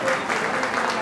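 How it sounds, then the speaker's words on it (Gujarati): An audience at a Gujarat tribal community gathering applauds a welcomed guest with a brief, steady wash of clapping that has voices mixed in. "તેમને આપણે તાળીઓથી વધાવી લઈશું."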